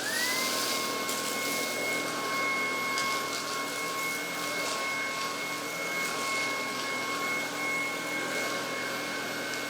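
An EASINE by ILIFE G80 cordless vacuum cleaner whines steadily up close, a constant high motor tone with airflow hiss throughout.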